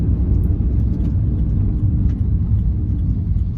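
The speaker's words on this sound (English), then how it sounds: "the sound of the turbo after once you lift off the accelerator is just mesmerizing, as well as the exhaust system" Tuned VW Polo GT TSI with a Stage 3 tune at 170 HP, steady low engine and exhaust rumble droning close and loud throughout, with a faint hiss above.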